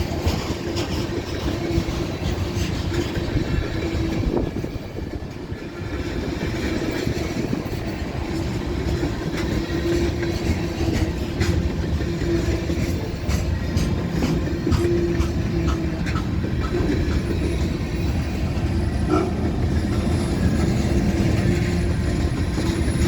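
A Union Pacific manifest freight train rolls past on a rainy day, a loud, continuous rumble of wagons and wheels with airy hissing from the brakes running through it from start to finish.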